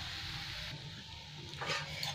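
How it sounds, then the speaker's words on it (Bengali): Poppy seed paste and potatoes fry in oil as they are stirred, giving a soft, steady sizzle with a brief scrape partway through, quiet and close, with no voices. "এবার নাড়তে নাড়তে ভাজা হয়ে যাবে পোস্তটা"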